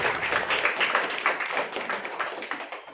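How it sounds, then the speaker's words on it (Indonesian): Audience clapping at a community health session on first aid for fainting, with Brimob Kelapa Dua hospital doctors; scattered, steady hand claps fill the three seconds at moderate loudness, with no one speaking. "Kita tepuk tangan dulu Pak Mustaqim."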